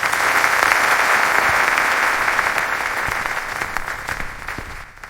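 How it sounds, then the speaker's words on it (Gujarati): Sustained audience applause welcoming three guests onto a stage at a film event, a dense steady clapping crowd that fades slightly toward the end. "આપણે તાળીઓથી ત્રણેય મહાનુભાવોનું સ્વાગત કરીએ"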